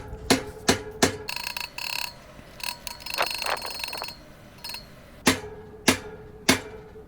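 Metal-on-metal hammering as a star nut is driven into a bicycle fork with a flat screw: three sharp taps, a stretch of scraping and clinking, then three more evenly spaced strikes, close and crisp.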